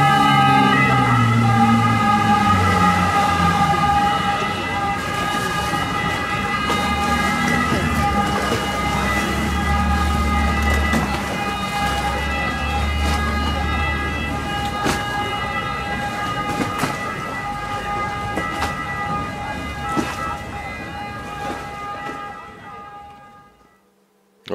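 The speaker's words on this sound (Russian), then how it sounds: "Ну вот, скорая венецианская." A boat ambulance siren in Venice wails steadily for a long stretch over engine rumble and wind, sustained and fairly loud before fading out near the end.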